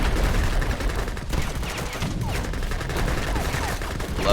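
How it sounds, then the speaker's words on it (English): Gatling camels in the video game Age of Empires III Definitive Edition fire rapid continuous volleys, a loud rattling stream of gunfire mixed with battle noise throughout. "Love Gatling camels. I just love Gatling in general. Gotta love the rat-a-tat-tat."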